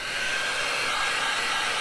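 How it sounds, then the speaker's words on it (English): A hair dryer blows steadily on a stencil pattern, a loud, close, unbroken whoosh with no pauses and no voices. "I'm going to hit this with a hairdryer"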